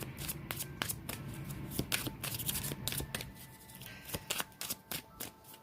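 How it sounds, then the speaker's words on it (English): A deck of tarot cards is shuffled by hand, a close series of crisp riffling flutters and taps repeating quickly with no talk. "Shuffle these a bit, Leo."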